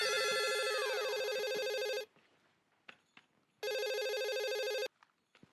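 A telephone rings in two long electronic bursts separated by a pause, loud and close, with faint background noise between rings.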